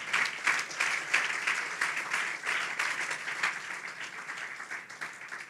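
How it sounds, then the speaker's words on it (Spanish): Steady applause from a church congregation during a Spanish-language sermon, a dense wash of many hands clapping at moderate distance that holds for several seconds and tapers slightly toward the end. "Dale fuerte el aplauso al Señor entonces."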